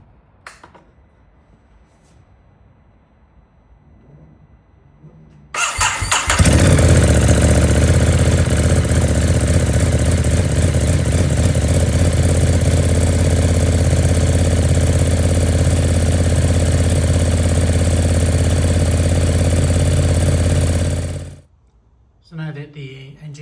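A Ducati Monster SP motorcycle engine starts after a quiet stretch and idles loudly and steadily up close while warming up, then shuts off near the end.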